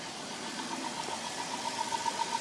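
A car engine idles steadily through a cold start, fitted with an HHO generator fed into the air intake, a low continuous hum with a faint whine, alone and fairly quiet.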